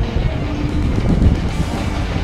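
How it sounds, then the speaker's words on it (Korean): An oil tanker freight train rolls past at a railway museum, a steady loud rumble of wagons with faint rhythmic clatter throughout, no talking. "기름을 싣고 다니는 열차다."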